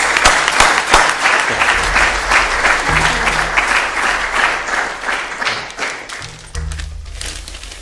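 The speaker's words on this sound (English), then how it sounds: "we would like to give a present to Professor Antonio and another applause" Sustained applause for Professor Antonio Aguado at an honorary event, dense steady clapping from a large audience with scattered low thumps and knocks, continuous throughout and without talk.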